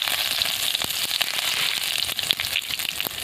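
Whole garam masala hits hot oil with sugar already caramelized red, in a homestyle country chicken and potato curry, giving a loud, dense, steady sizzle with scattered crackling pops close up.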